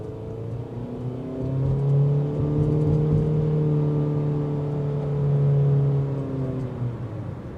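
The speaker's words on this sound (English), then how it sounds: "it's going to keep that engine note like a drone sound" A 2023 Honda HR-V EX-L's four-cylinder engine with CVT drones at a steady, sustained pitch while driving, holding one note with slight swells, a continuous low hum heard from inside the cabin.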